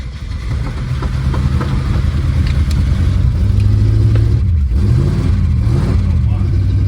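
A 1970 Jeep Wagoneer engine that had sat for 22 years runs roughly and steadily for the whole stretch, idling loud and close with a low, uneven rumble and a few rev changes.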